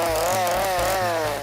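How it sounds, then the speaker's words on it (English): A steady, loud mechanical whine with a droning engine note, holding a continuous pitch that wavers slightly, like a chainsaw running at idle to moderate revs. "One of the most terrifying props you can use is a real chainsaw."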